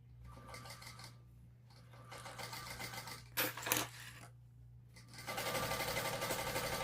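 A sewing machine stitches a crossbody bag, running in short bursts with pauses and a brief reverse backstitch, then a longer steady run, close and clear.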